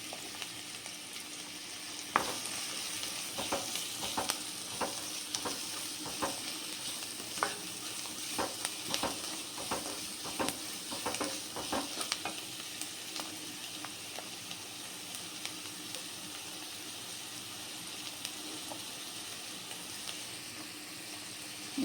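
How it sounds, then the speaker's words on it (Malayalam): Sliced onions sizzle steadily in hot coconut oil for chicken cutlets, a continuous frying hiss broken by frequent clicks and scrapes of stirring, close and moderately loud with no talking. "അതിലേക്ക് ആവശ്യമായിട്ടുള്ള സബോളയാണ് ഞാൻ ആദ്യം ഇടുന്നത്"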